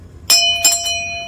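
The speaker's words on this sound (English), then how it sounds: "ring that notification bell so you'll know when the next episode is up and running" Two bright chimes of a notification bell ring out clearly, each a sharp metallic strike with long sustained tones, the second slightly softer and followed by a faint third ring.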